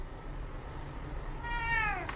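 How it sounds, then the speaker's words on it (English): A cat gives a single rising-then-falling meow near the end, fairly close and clear over a quiet room background, with no one speaking. "My cat is so sweet."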